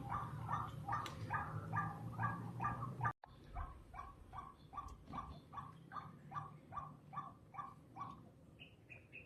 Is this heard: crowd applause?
no